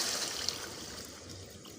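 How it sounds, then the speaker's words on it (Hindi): Water pours steadily into a pot with a continuous splashing trickle, fairly close and unbroken, with no talking. "अब इसके अंदर पानी डाल दिया हमने।"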